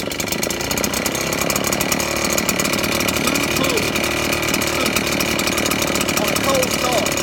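A Red Max EBZ 8500 backpack leaf blower, choked for a cold start, fires and runs with a loud, steady, buzzing two-stroke drone that continues unbroken throughout.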